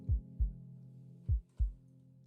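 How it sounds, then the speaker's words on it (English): Four deep, booming heartbeat thuds in two paired beats over a low sustained hum, a dramatic sound effect with no voices. "Behind every beast, there's a heartbeat."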